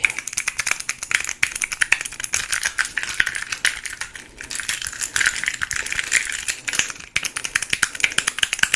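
Fingers wearing rings tap a keyboard in a dense, fast clatter of clicks and metallic ticks. It is close-up and continuous with no talking.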